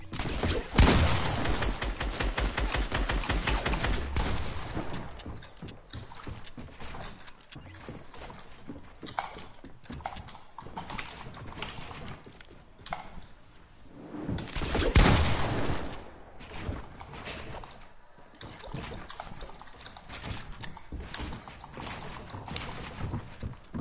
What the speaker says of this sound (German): Ich muss auf den Boden schießen, ich muss auf den Boden schießen.